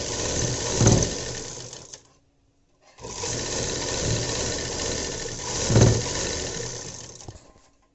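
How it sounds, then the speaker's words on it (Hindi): A sewing machine runs steadily while stitching the neck of a baby dress, close and fairly loud, stopping for about a second before starting up again and running on continuously. "ये देखिए, हमने अपनी नेक में एक सिलाई लगा ली"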